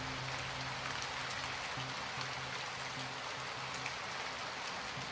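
Steady rain falls in an even, quiet hiss with no pauses, and a low droning tone hums faintly beneath it throughout.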